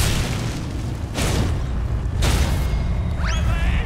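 A charge attack in the Elden Ring video game lands on a giant, heard as loud, deep booming impacts and rumbling bursts, with a bright swooping sound near the end.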